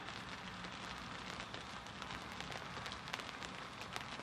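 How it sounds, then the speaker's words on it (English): Steady rain pours down on a carp fishing lake bank in a dense, even hiss, with close drops pattering sharply on a surface throughout. "here's the rain again."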